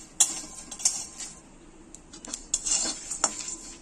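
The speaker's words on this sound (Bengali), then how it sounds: "মশলাগুলোকে শুকনো গলায় নেড়ে নেব ভালো করে" Whole spices stirred in a dry pan with a metal utensil for Pujo special chicken badam, giving scattered light scrapes and clinks at an irregular pace, close and fairly quiet.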